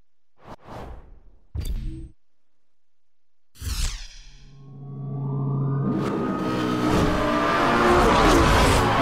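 A Lamborghini Gallardo in the racing game Need for Speed Hot Pursuit Remastered, with sharp whooshes followed by an engine revving up and building into a loud, sustained roar as the car accelerates.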